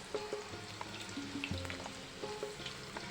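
Long slices of raw banana frying in hot oil on a high gas flame give a soft, steady sizzle, with a few light clinks and stirring taps, heard close but quiet.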